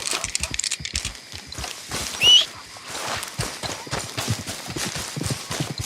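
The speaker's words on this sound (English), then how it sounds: "There's our horse." Steady clip-clop of horse hooves at a trotting pace in the video game Red Dead Redemption, close and fairly loud, with rhythmic, evenly spaced hoofbeats and a faint ambient backdrop.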